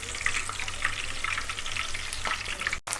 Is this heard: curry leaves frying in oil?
yes